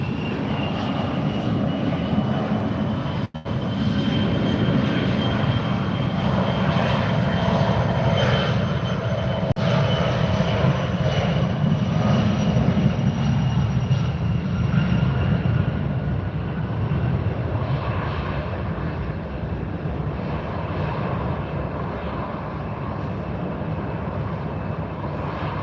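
A DC-3 propeller airliner takes off at Fort Lauderdale, its piston engines giving a loud, sustained droning roar that builds and then slowly eases as it climbs away.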